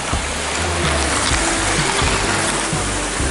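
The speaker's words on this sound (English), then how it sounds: "That's a secret waterfall." Continuous loud rush of falling water, dense and unbroken, with no voices.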